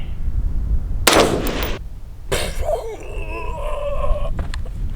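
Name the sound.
AR15 rifle gunshot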